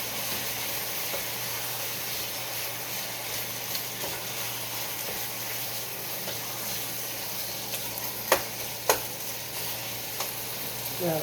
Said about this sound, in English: So, whole little can of tomato paste, stir it up, let it cook for a little bit.